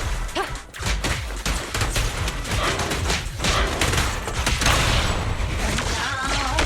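Gunfire in the Zenless Zone Zero video game, a dense continuous fusillade of shots and thumps with crashing impacts, loud and sustained throughout alongside game music.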